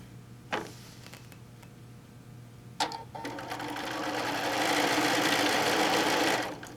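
Sewing machine quilting a fabric placemat, a steady mechanical whir building from about three seconds and running continuously to near the end, preceded by a couple of short clicks.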